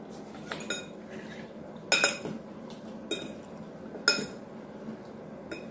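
Utensils mixing a roasted pepper and tomato salad with garlic: a few distinct metallic clinks and scrapes against a bowl, separated by quieter stirring between them.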